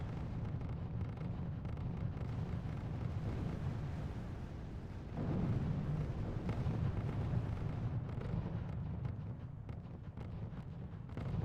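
Artillery barrages land in a RUSE real-time strategy match, a continuous low rumbling roar of distant explosions that swells louder about halfway through, with no voices.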